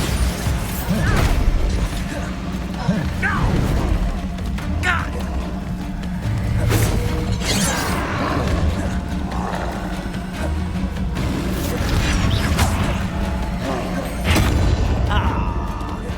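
Repeated Bombarda explosion spells in the Hogwarts Legacy video game, heavy booms landing every second or two amid combat effects, roars and game music, with character voices speaking between the blasts.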